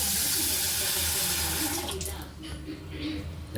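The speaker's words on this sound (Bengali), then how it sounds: "একটুখানি জল দিয়ে দিচ্ছে" Water pours from a tap or jug onto rice in a pot for pulao, a loud steady splashing rush close by that thins and fades near the end.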